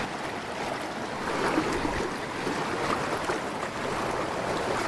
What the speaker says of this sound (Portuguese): consegui ultrapassar essas corredeiras, né, de pedras.